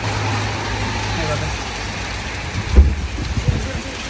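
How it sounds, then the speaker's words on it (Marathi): Hail mixed with rain falls outside a home, a steady broadband patter with a low hum early on and a few sharper impacts near the end; a voice speaks over it. "गारा पडत आहे"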